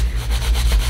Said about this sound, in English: I'm gonna scuff up all my fabric edges because that's the way I want my pumpkin.